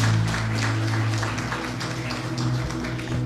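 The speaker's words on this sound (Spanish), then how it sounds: "Fuerte el aplauso a la palabra de Dios." A church congregation applauds after a sermon reading, a crowd of hands clapping steadily over a low sustained organ or keyboard tone that hums underneath.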